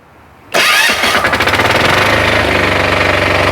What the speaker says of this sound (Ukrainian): Ось так завжди приємно заводиться техніка вейма.